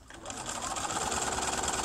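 Sewing machine stitching a blind hem, the fabric fold guided along the presser foot guard; a steady, fast mechanical whir with rapid needle rhythm runs throughout at close range, with a faint voice in the background.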